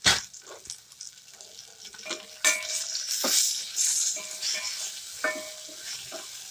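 Garlic and tomatoes fry in a pan for Kadaknath chicken curry, a bright sizzle with repeated spatula stirs and clinks against the pan, close up and fairly quiet.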